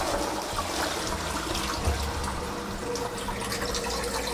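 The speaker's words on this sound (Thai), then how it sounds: "ใช่แล้วค่ะเสียงกดชักโครกนั่นเองค่ะ" A toilet being flushed, with a steady rushing, gurgling wash of water that holds at a constant loud level for several seconds with no voices.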